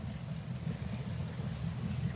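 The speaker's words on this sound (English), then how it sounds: "I know it's a boat right there." Steady low motor drone of a boat, likely a speedboat, running on open water during a fishing outing, continuous and moderately distant with some wind noise, no talking.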